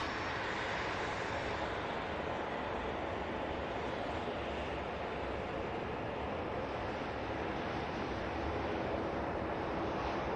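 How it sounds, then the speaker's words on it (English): A TUI Dreamliner climbs out of Manchester Airport bound for Dalaman, producing a distant, even roar that holds steady throughout, with some wind buffeting on the microphone. "Here is the TUI Dreamliner I mentioned for Dalaman,"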